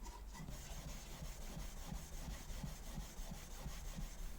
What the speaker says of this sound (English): keep going at it with some steel wool, getting into some harder to reach places, like under the hook guard there, just making sure I get as much rust off as I can